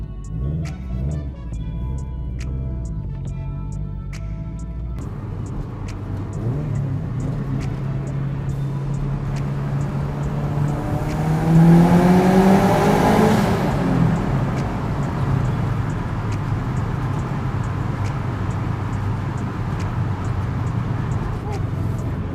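A 2004 Subaru WRX engine, first idling with a ticking rhythm, then revved up to a swelling roar that peaks and settles back into a steady rumble, heard close by with a voice speaking at times.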